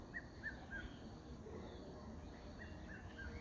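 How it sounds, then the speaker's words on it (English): A red-chested cuckoo's repeated three-note whistled call rises and falls in the background, recurring a few times over steady low rumble and faint ambient noise. "the Piet my vrou bird that you hear in the background is again starting to drive me crazy"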